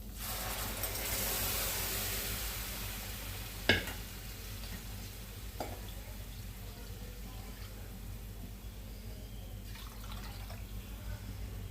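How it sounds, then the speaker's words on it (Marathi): Boiled moth beans being stirred into sizzling misal masala in a pan, a steady frying hiss throughout with a couple of sharp spoon clinks against the pan. "ही उकळलेली मटकी आपण घालून घेऊ."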